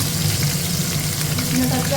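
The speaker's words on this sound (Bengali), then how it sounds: "মাছ ভাজা হচ্ছে" Fish fries in a pan with a close, continuous sizzle and a light bubbling crackle, steady throughout.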